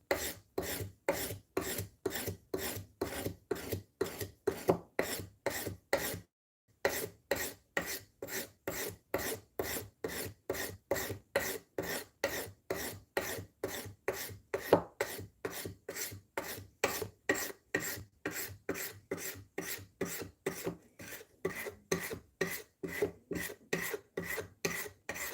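A wooden tool handle is sanded by hand with abrasive grit paper, a steady rhythmic rasping of quick back-and-forth strokes, close and alone, with one short pause early on.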